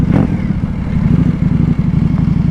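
A motorcycle engine rumbles close by at night, idling and revving with a deep, throbbing, slightly clattery tone, no voices.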